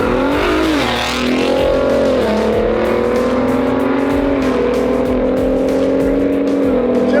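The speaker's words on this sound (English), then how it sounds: "we've got our Gen 3 Raptor against our Gen 1 F-150 EcoBoost with the cab on" A Ford Gen 3 Raptor drag races a Gen 1 F-150 EcoBoost with a full power pack, engines roaring loud and close as they rev up under hard acceleration and hold a steady strained drone.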